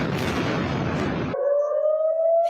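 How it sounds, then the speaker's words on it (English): Air raid sirens sounding across Israel during a Hamas barrage: a loud, dense burst of noise cuts off and gives way to a steady, sustained siren wail with a long droning rising tone. "Air raid sirens sounding across Israel"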